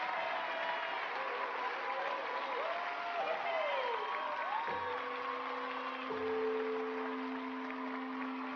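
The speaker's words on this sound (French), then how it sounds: "On applaudit nos 2 championnes." An audience applauds two champions with sustained, dense clapping that holds steady throughout, while a voice speaks over the top of it.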